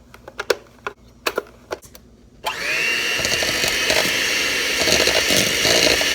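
Butter and Swerve sweetener being mixed in a bowl, likely with an electric mixer, a few sharp knocks first and then a loud, steady whirring drone that runs without pause to the end.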